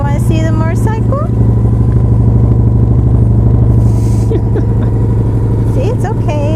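A motorcycle engine runs steadily and loudly close by with a constant idling throb, while people talk over it and a small dog is aboard.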